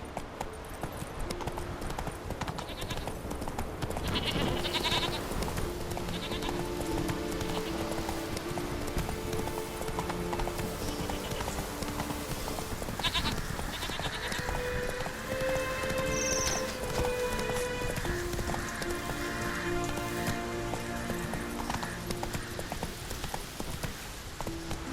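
Roach the horse galloping in a video game, steady rapid clip-clop hoofbeats running continuously at close range over a light ambient game soundscape with faint tonal music.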